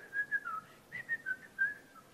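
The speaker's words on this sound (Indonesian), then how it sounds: "Anda bisa bersiul-siul." A person whistles a wandering tune in short, pitched phrases with brief breaks between them, fairly clear and close, with no talking.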